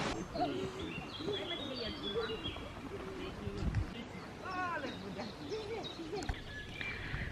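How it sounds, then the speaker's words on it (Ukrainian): Birds singing in a park with gazebos and swings, scattered chirps and short warbling calls at moderate distance over faint background noise, with a brief low thump partway through. "пташки співають"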